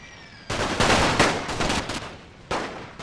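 Rifle infantry fire in a World War One strategy game, The Great War mod of Total War. After a quiet start, a loud crackling volley of many overlapping shots rolls on, and a second sharp burst breaks in near the end.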